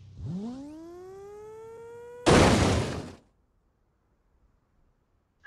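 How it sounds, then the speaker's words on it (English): An engine revs up as a rising tone with harmonics, then blows up in a loud, sudden broadband burst about a second long, cut off into near silence afterward. "that's an explosion"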